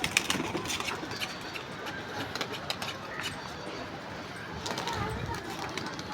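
Flock of pigeons circling overhead, with soft cooing and fluttering wings over a steady outdoor background.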